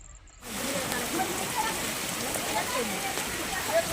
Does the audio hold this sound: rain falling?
yes